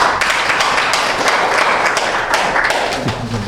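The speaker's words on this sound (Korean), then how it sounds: "큰 박수로 환영해 주시기 바랍니다." Audience applause welcomes a speaker at a construction-safety seminar: a dense, continuous wash of many hands clapping, loud and even throughout.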